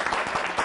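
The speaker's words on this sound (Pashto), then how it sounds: "ښه چکچکې وکړه راته" Dense applause from an audience at a live gathering, a brief steady burst of many hands clapping at once.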